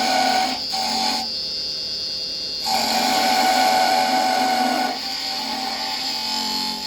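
A carbide cutter on a wood lathe turns a wooden finial, giving a steady high whirring, scraping hiss that shifts in tone as the cut changes, heard close and continuous without talk.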